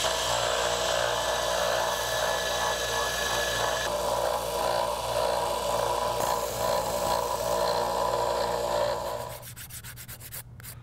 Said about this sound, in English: I can use this belt sander to get it down to the line.